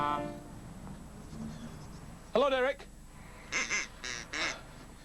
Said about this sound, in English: Derek the duck